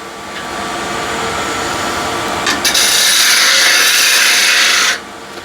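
Lathe tool hollowing out spinning wood, a steady scraping rasp that grows louder and brighter partway through before cutting off abruptly near the end, close and without talk.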